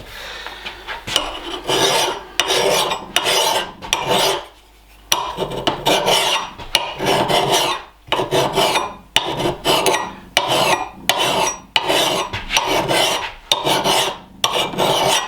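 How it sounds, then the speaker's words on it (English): An axe blade is sharpened with a coarse-cut hand file in loud, close, rhythmic rasping strokes, about a dozen back-and-forth passes separated by short pauses. "This file has a coarse cut, and I have a medium cut as well"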